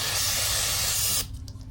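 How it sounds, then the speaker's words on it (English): Brake parts cleaner hisses from an aerosol can onto a Ducati motorcycle brake in one steady, loud, close spray lasting just over a second. It then cuts off abruptly, leaving quiet workshop room tone. "clean it off with some brake parts cleaner"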